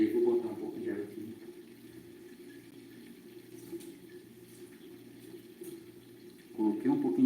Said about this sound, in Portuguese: E aí vou botar um pouco de água aqui.